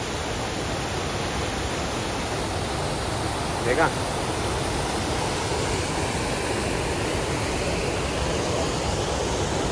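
A mountain waterfall on the Kinnaur Kailash trek roars as a loud, continuous broadband rush of water, constant throughout, with a brief spoken word barely rising above it.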